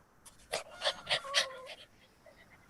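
A dog pants heavily up close, a run of rhythmic quick huffing breaths in clustered bursts, fairly faint and alone, fading to quiet at the end.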